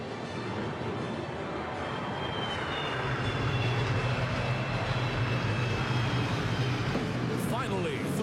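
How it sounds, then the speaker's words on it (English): An F-15 fighter jet performs a vertical climb at a national day parade in Singapore, producing a loud continuous jet roar that swells slightly over time, with an announcer's voice over it. "Presenting the F-15 Vertical Climb."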